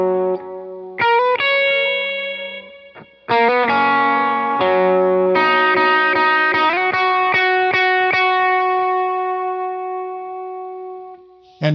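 Dry electric guitar without effects plays the lead riff, sliding and sustained single notes with a few bends, up close and alone with short pauses between phrases.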